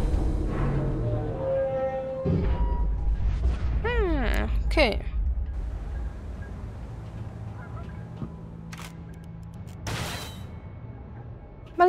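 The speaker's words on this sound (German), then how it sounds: "Noch ein Häschen explodiert." A cartoonish bunny blows up in the video game Alice: Madness Returns, a short burst amid busy game music and effects, followed by another sharp blast near the end while someone talks over the gameplay.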